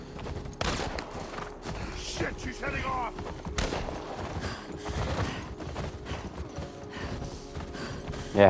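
Hooves clip-clop in a rapid galloping rhythm amid scattered gunshots and chaotic action sounds, with occasional mixed noise throughout, from the video game The Last of Us Part 1.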